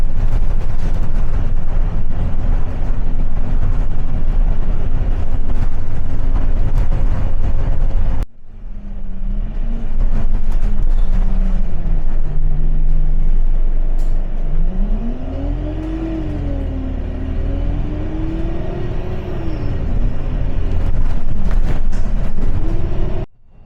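An ADL Enviro 200 bus runs at speed along the B581 toward Broughton Astley, its engine droning steadily close by with rising and falling whine as it accelerates and shifts, a short dip midway, no talk.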